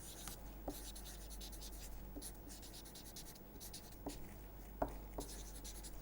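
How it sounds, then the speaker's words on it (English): Faint, close scratching of a pen or chalk writing notes during a lecture, soft continuous strokes with a few sharper taps, in a quiet room. "Let us write that down."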